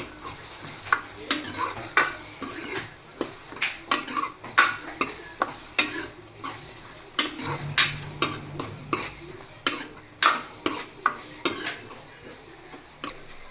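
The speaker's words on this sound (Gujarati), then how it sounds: "લીલી ડુંગળી આ બધી વસ્તુને આપણે હલાવીને મિક્સ કરી લેશું" A utensil scrapes and clinks in a pan as green onions and fresh green chickpeas are stirred for a Gujarati curry, with a soft sizzle underneath and repeated sharp taps at an uneven rhythm.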